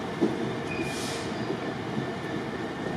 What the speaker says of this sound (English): This train is formed of 4 coaches.